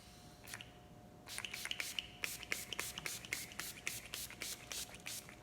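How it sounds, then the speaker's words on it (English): Quick bursts of Urban Decay All-Nighter setting spray misted from a pump bottle, about a dozen short close hisses in an uneven rhythm after a quiet start. "It's Urban Decay cool. All-Nighter Setting Spray."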